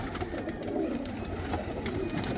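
Pigeons cooing and mumbling inside a loft in Juana Díaz, Ponce, Puerto Rico, a dense continuous murmur of soft overlapping coos with faint flutters and clicks, no talk.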